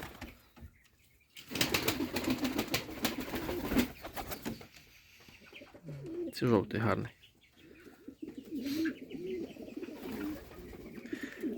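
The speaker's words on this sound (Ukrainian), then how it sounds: "Зараз воно загудить той голуб." Pigeons coo and flap their wings in a village coop, low throaty coos repeating over several seconds with bursts of wingbeats, close by, while a person speaks briefly.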